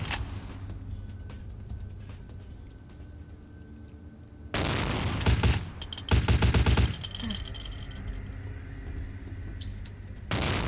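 Gunfire in the video game Vampire the Masquerade: Bloodlines, heard as loud bursts of rapid shots in two main clusters over a low game ambience, with a voice speaking briefly in between.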